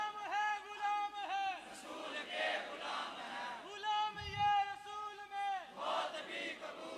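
A crowd at a religious gathering chants slogans in unison, in short bursts of call and response. The massed voices rise and fall in waves, separated by brief pauses, with one louder shout in the middle.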